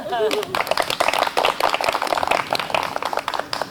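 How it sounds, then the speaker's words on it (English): Scattered audience clapping at a live event at Gillette Castle State Park, uneven and patchy, with a voice talking over it at the start and through much of the applause. "Ruthie deserves your applause."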